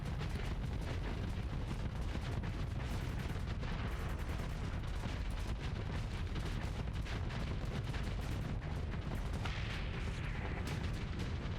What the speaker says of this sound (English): Open fire and kill him.